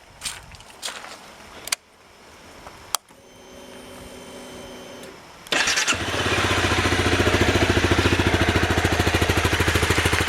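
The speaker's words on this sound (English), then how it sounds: "I'm going to start it up. I'll show you how loud it is." A few clicks and a whirring starter, then a 2013 Honda CBR250R motorcycle engine catches and settles into a steady, close, quiet idle putter.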